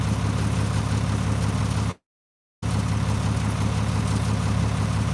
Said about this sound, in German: Oder ist der Motor zu laut?